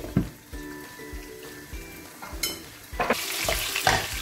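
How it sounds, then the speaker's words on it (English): Sausage and glass noodles being stir-fried in a pan, with steady sizzling and repeated scraping strokes of a utensil against the pan, building into a louder hiss near the end, close and clear with no talking. "Stir fry for 1 to 2 minutes and then cover to"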